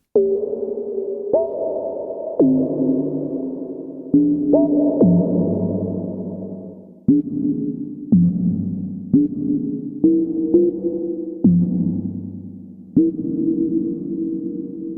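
A Dreadbox RainDrops synthesizer in reverb mode, played with an OP-1 Field, makes pitched drip tones one after another, each plucky note sliding and ringing out with a long reverberant tail, alone and fairly loud.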